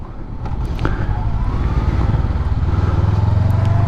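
A Honda CBR500R motorcycle rides through city traffic, its engine rising from a low rumble into a loud, steady throb that builds over a few seconds, with a faint whine riding over it.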